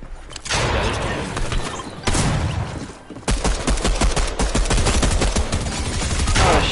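Rapid gunfire from Fortnite, loud bursts of close automatic shots with sharp repeated cracks, a short pause near the middle, then dense continuous firing to the end.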